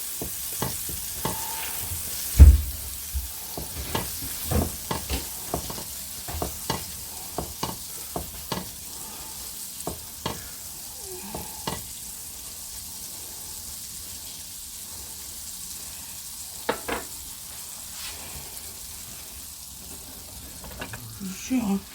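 Butter sizzles in a frying pan at the start of a creamy scallop and shrimp cassolette, a steady hiss with repeated sharp clinks and scrapes of stirring, fairly close and with no talk over it.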